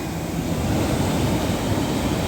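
Rough morning surf rolls onto a sandy beach in Phetchaburi, Thailand. The hiss and rumble of the waves is continuous and fairly loud, with no one talking.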